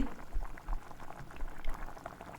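Sugar syrup and milk bubble at a rolling boil in a pan, a steady close-up fizz of popping bubbles with uneven little surges and no voices.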